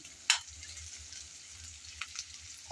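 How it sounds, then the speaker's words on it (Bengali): Ginger-garlic paste frying in a pan for a shrimp dish gives a quiet, steady sizzle throughout, with a sharp utensil clink near the start and a few faint scrapes later, no talking. "কিছুক্ষণ সময় ধরে আমি আদা রসুন বাটা ভেজে নিলাম।"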